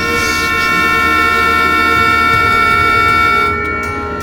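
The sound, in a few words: truck horn sounding in zombie film Peninsula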